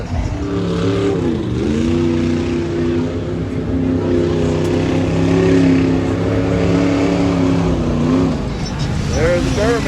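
Twin turbo Duramax race truck engine roaring and revving steadily in a mud hole at a party, a loud continuous drone with shifting pitch and a faint voice beneath.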